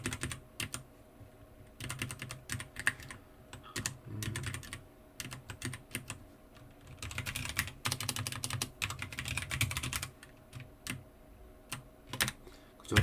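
Rapid typing on a computer keyboard, close and clear, with bursts of keystrokes separated by short pauses and no voices over it.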